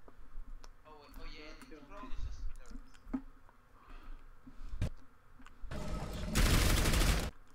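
Turrets fire a dense burst of rapid gunfire in the video game Overwatch, loud and close near the end, following clicks and a player talking over game sounds.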